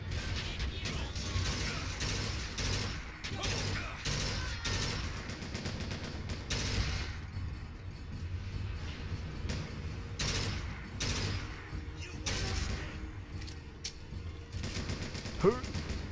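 Gunfire in the game Bioshock Infinite, scattered sharp shots and rattling bursts spread across a busy mix of mechanical clanks and clatter, moderately loud, with some talk underneath.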